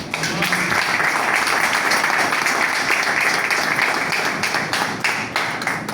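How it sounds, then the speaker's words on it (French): An audience at the closing ceremony of an international logistics fair breaks into sustained applause, a dense, steady wash of clapping filling the room at a loud, even level throughout. "C'est un exploit qui mérite forcément, instantanément, fortement des applaudissements"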